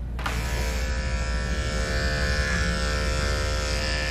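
Andis electric dog clippers fitted with a size 30 blade run through a dog's fur, a loud, close, continuous motor buzz with a bright whine and a slight rise in pitch, alone without speech.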